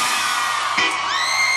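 A funk party crowd at a baile in São Paulo shouts and whoops loudly, a sustained roar of many voices with a sharp rising yell near the middle.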